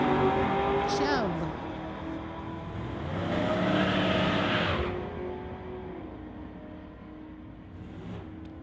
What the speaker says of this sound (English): Josh M in the Mustang versus Jen in the Chev